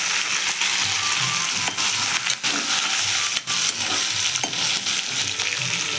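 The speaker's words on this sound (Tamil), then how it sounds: "ஒரு வெங்காயம், 2 பச்சை மிளகா, கொஞ்சம் கொத்தமல்லி, கருவேப்பிலை இது போட்டு நல்லா வதக்கிக்கோங்க" Onion, green chillies, coriander and curry leaves sauté in hot oil with a steady close sizzle, while a spoon stirs and scrapes the pan in brief repeated strokes.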